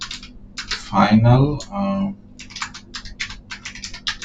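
Computer keyboard typing of code in Android Studio: quick clusters of close key clicks, with someone speaking briefly in the middle.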